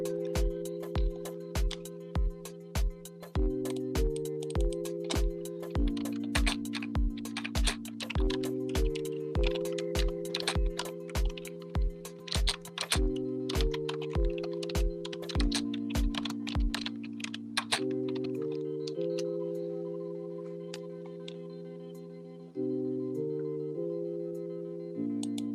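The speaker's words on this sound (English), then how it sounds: "so you're going to hear some ASMR clicking." Close, rapid clicking as a microphone is set down, sharp irregular taps over steady background music that carries on alone after the clicks stop.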